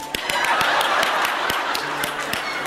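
Hand claps from a person applauding herself in a comedy sketch, a quick series of sharp, evenly spaced slaps over a steady bed of background noise, fairly close.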